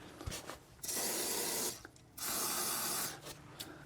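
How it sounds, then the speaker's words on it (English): Wire brush scrubbing rusty rear shock absorber bolts on a Vauxhall Corsa D, then two long hissing bursts of penetrating fluid spray, close and loud with brief scrapes between them. "we're giving these bolts a generous seeing to with the wire brush and a good squirt of penetrating fluid"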